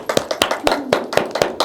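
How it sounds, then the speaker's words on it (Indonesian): A small classroom group claps briefly after students present a poster project, a few loose, uneven claps close by over about a second and a half. "Tepuk tangan."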